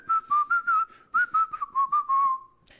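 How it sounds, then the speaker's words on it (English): A person whistles a lilting tune up close, a clear pure tone in a series of quick repeated notes and short slides, alone with no talking. "You just sort of whistle, and then you keep whistling"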